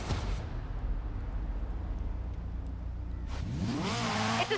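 A Lego-built Ferrari F40 in the Forza Horizon racing game holds a steady, droning engine note, then revs up sharply with rising pitch near the end, loud and close, with no talking.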